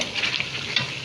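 Duck meat curry stirred in a hot pan as roasted cumin goes in, a short steady sizzle with scraping stir strokes, close and alone without talk.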